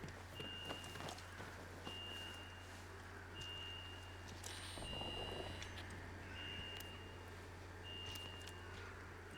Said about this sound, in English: Must be something I can hack, otherwise it wouldn't be beeping.